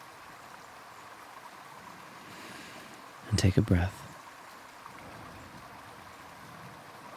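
A gently running stream, a soft continuous trickle and wash of water heard faintly throughout, briefly overlaid by a calm spoken voice in the middle.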